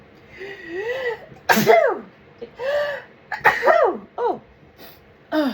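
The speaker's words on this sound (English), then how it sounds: "I'm glad I sneezed before I tried to utter Theodore." A person gives a clear, loud sneeze right at the microphone, followed by several more sneezes and throat sounds in an uneven run of sharp bursts with short pauses between them.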